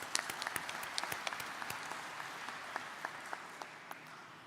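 Audience at a community citizens' gathering applauding, a faint, steady patter of many hands clapping with sharper individual claps scattered throughout, heard from a distance.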